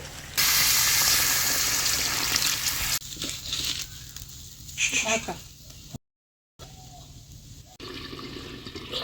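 Water pours and splashes into a cooking pot for boiling potatoes in a home kitchen, a loud steady rush at first, then broken splashing with a short gap and clattering handling noises.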